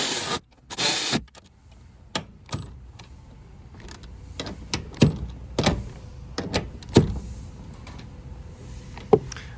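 Black stainless button-head bolts being tightened down while installing a tire carrier on a vehicle, heard as a series of sharp metallic clicks and ratchet taps, irregularly spaced and fairly close, with faint handling rubs between them and no talking.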